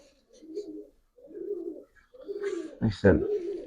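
A pigeon coos in low, soft phrases, a few separate murmurs followed by a louder, fuller coo close by.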